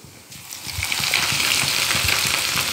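Grated ginger hits hot oil in a pan over medium heat, breaking into a bright, steady sizzle after a quieter start, with soft stirring clatter underneath.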